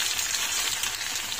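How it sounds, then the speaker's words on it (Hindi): Papadums fry in hot oil, giving a dense, continuous crackling sizzle that stays even and close throughout the short stretch. "हमारे पापड़ फ्राई हो रहे हैं"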